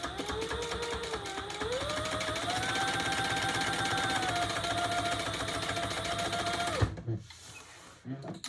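A sewing machine runs a continuous row of stitching through blue croc-print ostrich leather, close and steady with a whining motor tone, then stops abruptly and a few handling clicks follow.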